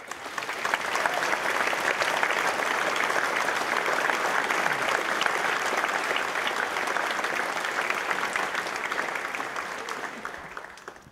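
Audience at an evening history lecture in Gettysburg applauds steadily, a dense, even clapping that holds for about ten seconds before beginning to fade.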